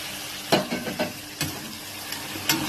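Tomato paste sautéing in a pan with ginger, garlic, coriander and mint leaves for chicken biryani, a soft steady sizzle broken by a few sharp scrapes and clicks of stirring.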